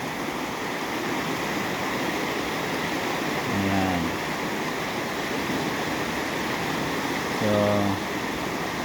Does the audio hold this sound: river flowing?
yes